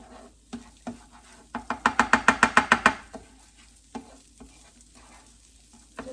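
Rice toasting in a pan for a shrimp and lobster risotto, stirred with a rapid run of about ten sharp scraping strokes amid a soft, close sizzle, then scattered scrapes; nobody speaks.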